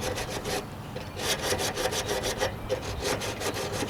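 A 1968 AMX hood is block sanded by hand to clear Bondo splatters and dirt, making quick back-and-forth rasping strokes in a steady rhythm, close and distinct, with no talking.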